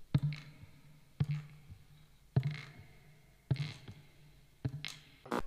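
A guitar imitates the creaking stairs of a horror film: a slow, steady series of percussive knocks about once a second, each with a short, low tonal ring and a faint scrape, close and alone.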